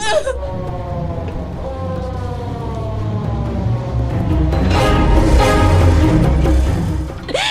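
Police siren arriving at a tense scene in a Filipino drama, its wail sweeping steadily downward in pitch, fairly loud and continuous throughout, with a low rumble and some commotion beneath it.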